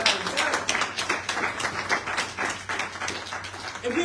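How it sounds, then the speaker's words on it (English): A crowd applauds with steady, dense clapping throughout, moderately loud and sustained with no pause. "Can we clap it up for Dr."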